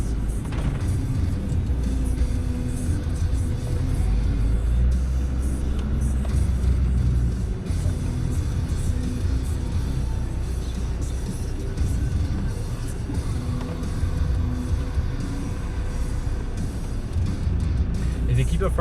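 Land Rover Discovery 2 TD5 crawling slowly off-road over rocks, a steady low engine rumble with faint scrapes, with people talking throughout.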